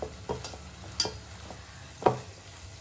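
Spicy vadai kara kulambu with curry leaves and coriander is stirred in a pan, a few light scrapes and clinks over a faint sizzle, quiet and close, with no speech.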